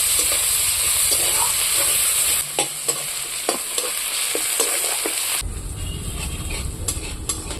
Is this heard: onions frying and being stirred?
yes